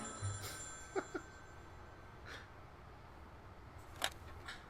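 A telephone rings with a few short bright rings spaced apart over faint background noise, moderately distant.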